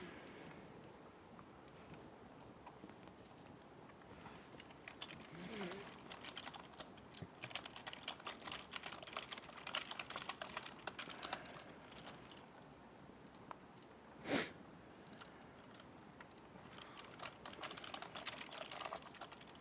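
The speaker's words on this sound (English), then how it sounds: "let me type that in my channel" Keystrokes on a computer keyboard during a live stream, quiet and fairly steady, a dense run of soft clicks through most of the stretch with one sharper knock partway through and no talking.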